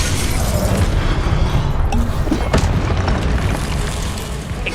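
Incendio fire spell cast in Hogwarts Legacy, a loud whooshing burst with booming, crackling blasts over continuous dense combat noise, several sharp pops around the middle.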